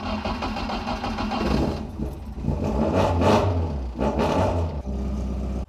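A car engine cranks, catches and runs rough after a crank sensor is plugged back in, its close, uneven idle stumbling and surging with throaty rumbles and no talk.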